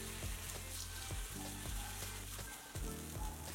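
Paddu batter sizzles loudly in a hot paddu pan over low flame, a dense continuous frying hiss with a few soft knocks and bumps, close up and without voices.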